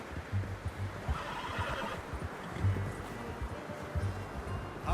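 A horse whinnies in Red Dead Redemption 2, sounding fairly close over steady outdoor ambience, with soft hoof thuds repeating in a loose rhythm throughout.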